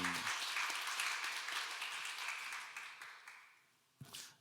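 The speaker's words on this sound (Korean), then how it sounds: "하나님께 감사와 영광의 박수 올려드리겠습니다" A church congregation claps during a Sunday morning service, a full burst of applause that gradually fades, followed by a brief sharp sound and a few scattered claps, with no talking.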